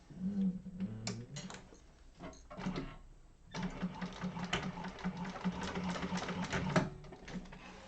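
A sewing machine bastes fabric and bag handles in place, its quick needle rattle starting and stopping in short runs before a longer continuous stretch, close and moderately quiet.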